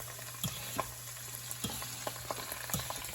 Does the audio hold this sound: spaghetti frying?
yes